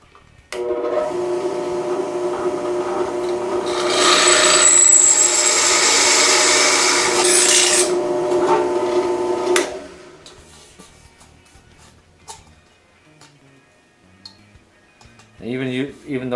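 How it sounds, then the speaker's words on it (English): A drill press whirs up and bores loudly for several seconds while drilling holes for a flea trap, then winds down, followed by quieter clinks and a voice. "Now we're ready to hit them with the drill."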